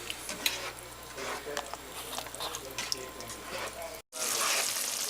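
Shepherd's pie filling of ground beef stirred in a pan, a close, soft sizzle with repeated scraping and clinking strokes of a spoon, ending in a louder hissing burst after a short break.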